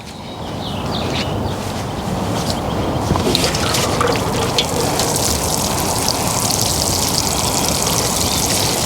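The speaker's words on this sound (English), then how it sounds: "But first I'm going to water it in." Water pours and splashes steadily onto soil and leaves of a freshly transplanted panicle hydrangea, a continuous close trickling with scattered drips, no talking.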